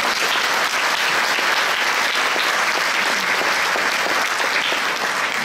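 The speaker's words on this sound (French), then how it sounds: "qu'on peut aussi applaudir, bien sûr." An audience applauds steadily and densely at a patriotic commemoration ceremony in Nivelles, honouring the president of the local patriotic groups; the clapping is loud and continuous throughout, with no voices above it.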